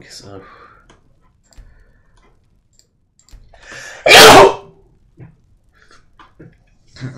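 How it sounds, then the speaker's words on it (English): A single loud, sharp sneeze bursts out mid-sentence during a Skyrim gaming livestream, close to the microphone, with casual talk before and after it. "Oh, that was a sneeze."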